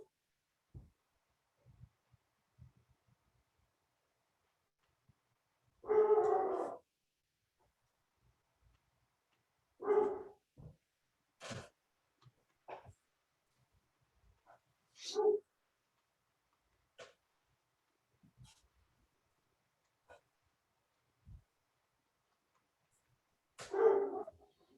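A dog barks intermittently in the background of an online meeting room, a few short separated barks and yips, fairly faint, with long quiet gaps between them and no speech.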